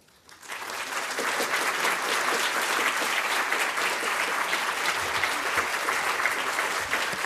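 An audience at a memorial tribute breaks into loud, sustained applause for a late professor. The clapping swells within the first second and then holds a dense, even roar of many hands throughout.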